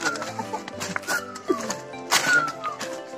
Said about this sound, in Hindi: और पंछियों की आवाज आप सुन रहे होंगे